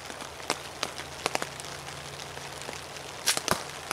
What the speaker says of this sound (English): It's pouring down rain, by the way.